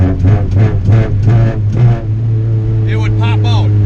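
A Honda CRX beater with transmission linkage trouble runs in third gear, its engine giving a steady low drone throughout while someone talks over the first half.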